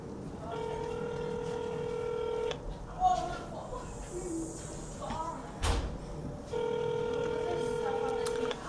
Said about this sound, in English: I'm going to call my mom